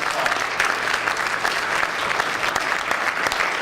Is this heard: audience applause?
yes